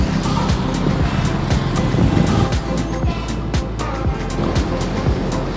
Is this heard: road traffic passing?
yes